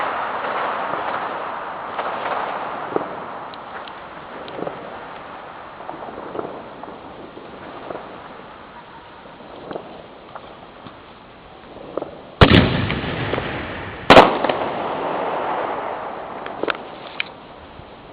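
Two sharp, loud bursts of fireworks launching from a tube stand out over a steady background hiss, each a sudden cannon-like boom followed by fading noise.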